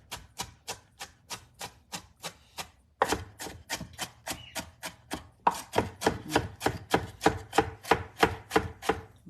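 A knife chops ampalaya (bitter melon) on a cutting board with steady, evenly spaced crisp strokes, close and clear. The pace picks up into a faster run of chops near the end, with no talking.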